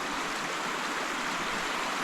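Swollen river water rushing steadily past a campground at The Quarries near Briagolong, a continuous broadband roar close by with no pauses or voices.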